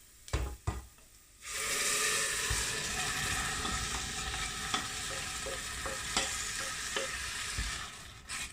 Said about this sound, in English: So now you throw in your tomatoes.